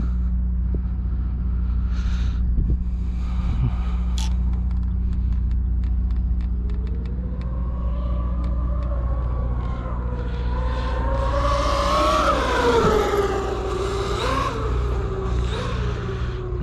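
A Traxxas X-Maxx RC truck tears past at high speed, its electric motor whining in a rising, falling pitch over a steady low rumble, growing louder toward a close pass before easing off.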